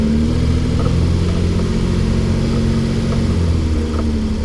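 A car engine idles and pulls steadily as the clutch is let out in reverse, a loud continuous low drone running unbroken and close, with no voices.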